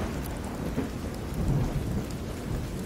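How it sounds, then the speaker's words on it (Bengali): Heavy rain pours steadily on a stormy night with low rumbling thunder rolling underneath, a dense continuous wash with no voices. "আর তারপরেই বৃষ্টির তীব্র শব্দ ঝপঝপ করে।"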